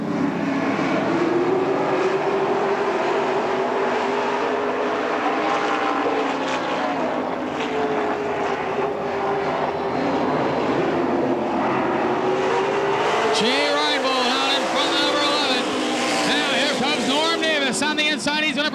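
Race cars roar around the Tri City Motor Speedway oval on a green-flag restart, a steady loud engine drone with passing cars rising and falling, under continuous track announcer commentary.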